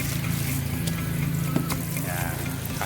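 Water pours and splashes continuously while rinsing a scrubbed surface during a car wash, a steady close rushing sound with a low pump-like hum beneath.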